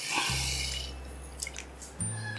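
Water pours into a pot to start sugar syrup for ras malai, a steady splashing stream close by with a brief gurgle near the end and no talking.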